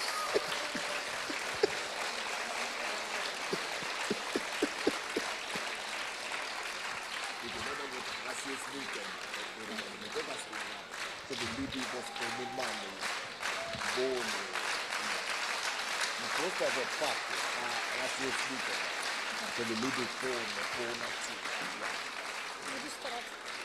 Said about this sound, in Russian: Только иностранцы хлопают.